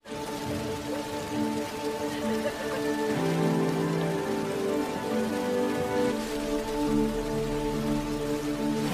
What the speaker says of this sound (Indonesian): Hingga tiba-tiba hujan mulai turun seperti Tuhan memberi mereka kesempatan untuk bertahan